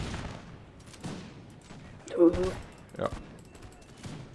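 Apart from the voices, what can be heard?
musket volley in Napoleon: Total War video game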